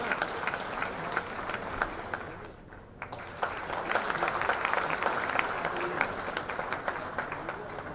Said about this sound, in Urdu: آپ کی بھرپور تالیوں میں تشریف لاتے ہیں کامران رحمت